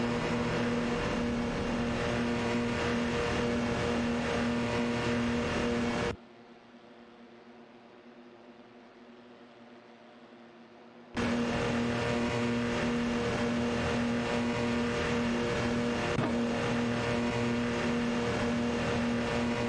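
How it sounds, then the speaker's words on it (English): Race cars roar continuously along a track, with a sustained high engine whine filling most of the stretch, cut by a few seconds of near silence before the same steady racing noise resumes. "Automobile dashing."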